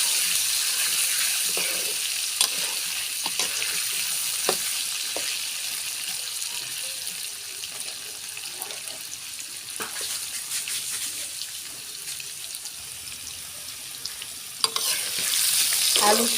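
Potatoes frying in oil with salt and turmeric, a continuous close sizzle with scattered clinks and scrapes of stirring and a brief burst of louder hissing near the end.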